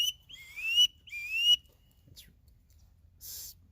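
Two rising squeals blown on a Primos whistle call imitate a wood duck call. They sound close and clear, followed by softer hissy puffs.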